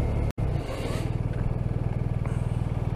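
BMW R 1250 RT motorcycle engine running steadily close by, with a rhythmic low throb as it slows and changes down through the gears by clutch into second; a brief dropout occurs near the start.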